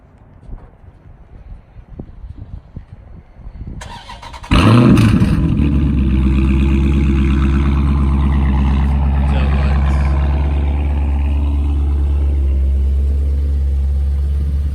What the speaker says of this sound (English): let me get a cold start